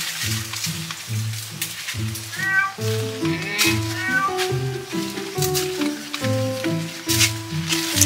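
Repeated cat meows, several in quick succession with rising-and-falling pitch, close and fairly loud over steady background noise.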